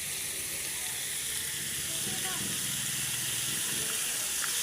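Fish sauce hitting a hot pan while cooking octopus, giving a steady broad hiss and sizzle that holds evenly for several seconds, fairly soft and close, with no one talking.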